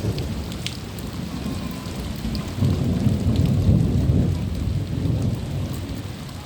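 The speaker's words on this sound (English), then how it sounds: "After the excitement of the short-lived storm" Steady rain pours during a thunderstorm over Queen Charlotte Sound in New Zealand, with low thunder rumbling underneath; the downpour swells louder partway through and stays dense and close, with no voices.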